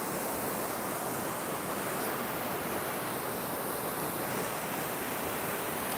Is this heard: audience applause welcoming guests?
no